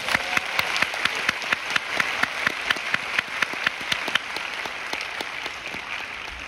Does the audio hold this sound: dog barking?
no